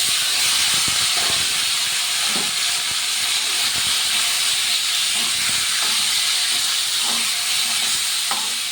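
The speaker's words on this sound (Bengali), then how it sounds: "এবারে বেগুন আলুটা দিয়ে দিলাম।" Eggplant and potato hit hot oil in a pan and set off a loud, steady, hissing sizzle that runs without a break, with faint scattered pops and scrapes underneath.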